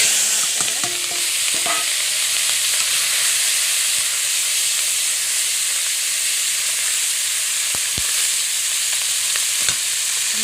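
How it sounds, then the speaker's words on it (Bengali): Cumin seeds frying in hot oil in a wok give off a steady, broad sizzle with a few faint clinks, continuous and fairly loud with no voices. "কড়াইতে কিছুটা তেল দিয়ে দিয়েছি আর আমি দিয়ে কিছুটা জিরে দিয়ে দিলাম"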